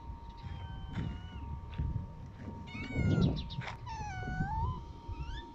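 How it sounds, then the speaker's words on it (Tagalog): Several stray cats meow in Shoaibah, a series of short overlapping meows and one drawn-out wavering yowl, moderately close over low outdoor rumble. "Ayan, ang daming pusa."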